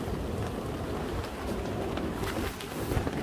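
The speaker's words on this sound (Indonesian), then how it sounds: "tengah malam hujan deras" Heavy midnight rain pounding a family camping tent during a windy storm, a dense, loud, continuous roar of drops with no voices.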